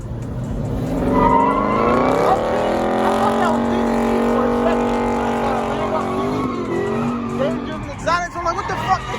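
A car does donuts at a car meet, a long sustained tire squeal with a rising and falling revving engine, loud and fairly close, with crowd noise around it.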